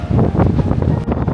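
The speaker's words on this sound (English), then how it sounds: "It's so windy up here, I think I'm going to get blown off." Strong wind buffets the microphone at the top of a steep mountain road, a loud continuous roaring rush with gusty swells and no voices.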